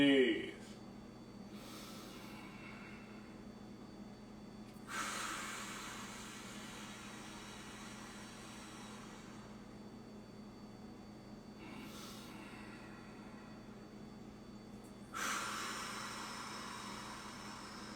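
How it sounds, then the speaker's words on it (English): Slow, deep diaphragmatic breaths during a stick mobility workout class, a few long airy inhales and exhales spaced several seconds apart, soft and close over a quiet room hum with a voice present. "deep diaphragmatic breaths"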